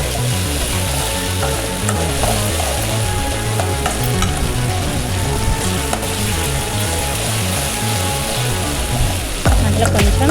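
Tomato pieces fry in a pan and are stirred, giving a loud, continuous, dense sizzle with a rough churning texture that holds steady throughout, close up, with no voices.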